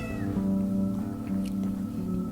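An elderly 17-year-old cat meows in a few drawn-out, tonal calls, close and fairly steady over a low background hum, with no talking.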